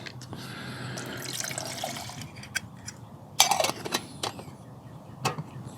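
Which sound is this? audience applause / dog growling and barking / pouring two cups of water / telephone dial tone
pouring two cups of water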